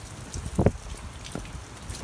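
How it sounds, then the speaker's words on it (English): Heavy rain falls outdoors on election day as a steady wash of hiss, with a couple of louder splashy drops standing out near the start and middle. "Can you guys see how much it's raining?"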